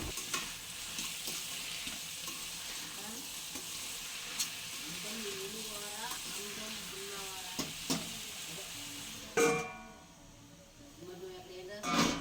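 Brinjal pieces simmer covered under a lid in a pan for a salted-fish curry, giving a steady soft sizzle with faint voices in the background.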